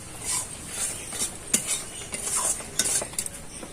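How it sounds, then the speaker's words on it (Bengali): Semolina being stirred and fried in ghee, soft intermittent scraping and clinks of a spoon against the pan over a faint sizzle, close and unhurried, with no speech. "সুজিটা দিয়ে এবার হালকা নেড়ে চেড়ে ভেজে নেব।"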